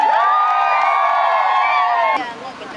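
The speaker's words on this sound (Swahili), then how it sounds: "Jipigeni makofi mengi sana." A rally crowd at an outdoor meeting in Nyakabindi cheers and whoops loudly, a dense sustained roar of many voices and shouts that cuts off abruptly near the end, leaving quieter background noise.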